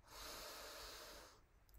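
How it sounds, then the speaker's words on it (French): A single deep breath, drawn in slowly through the nose with a soft airy hiss and a slight snort, close and quiet, fading out near the end. "On prend une belle respiration."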